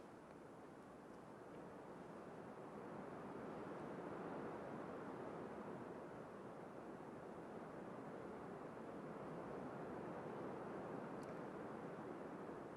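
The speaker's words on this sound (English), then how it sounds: "the noise of the wind is out there and I'm in here listening to it" Wind blowing outdoors, a quiet, steady low rushing roar that swells slightly and holds for the whole stretch without any talk.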